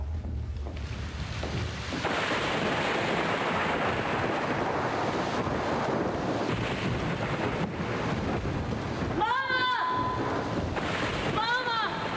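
A stage thunderstorm effect fills a theater production of The Diviners with loud, roaring wind and rumbling rain, a dense continuous wash that swells throughout, with voices breaking in near the end.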